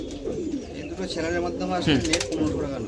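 Pigeons at a loft where birds are being sold coo steadily and close by, their low throaty calls running under people talking.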